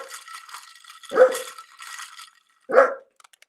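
A dog going past a window gives two sharp, loud barks about a second and a half apart, over a faint rattling background.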